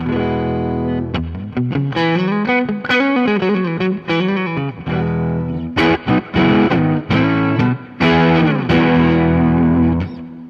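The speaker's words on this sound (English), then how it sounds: "And just a general reverb." An electric guitar played through a pedalboard's reverb plays a string of effected notes and chords, with a washy, echoing tail ringing after each phrase, loud and close.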